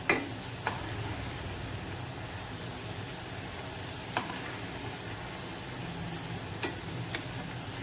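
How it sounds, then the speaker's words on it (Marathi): Onion and potato bhaji crisping in hot oil on both sides, giving a steady close sizzle with fine crackling and a few sharp pops, with no talking. "दोन्ही साईडने आपल्याला खरपूस असे फ्राय करून घ्यायचे आहेत."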